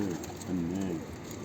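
A pigeon coos in low, rolling tones, two soft phrases close by over a faint steady background hum.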